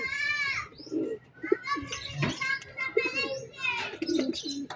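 Pigeons coo and call loudly and continuously inside a loft, several birds at close range, with someone talking over them.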